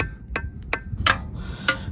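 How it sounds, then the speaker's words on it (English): Four sharp knocks from a rubber hammer driving metal bushing parts through on a VW T4 Powerflex bushing install, irregularly spaced, over a low background hum. "knocking the metal bits through with a rubber hammer"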